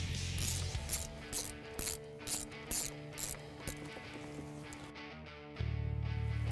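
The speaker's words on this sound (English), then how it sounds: "Now we're gonna hold the pulley and torque them between 8 and 12 newton meters." A ratchet clicks in quick bursts while tightening the bolts of a Roush Phase 1 supercharger pulley on a car engine, several short runs of sharp mechanical clicking close up, with no talking.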